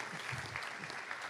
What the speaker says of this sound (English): So a round of applause for all the new startups we've created in the last 2 days